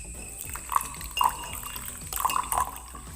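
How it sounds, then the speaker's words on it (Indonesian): Plain water poured into a glass with salt, the liquid splashing and trickling in a few brief bursts at close range, with no talking over it. "Garam ini dicampurkan dengan air biasa atau air jernih."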